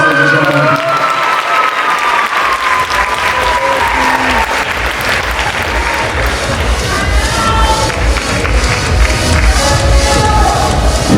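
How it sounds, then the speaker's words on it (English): A bodybuilding show audience gives the third-place finisher loud, sustained applause, dense clapping with some cheering and thumps filling the room steadily throughout. "Give him a big round of applause, ladies and gentlemen."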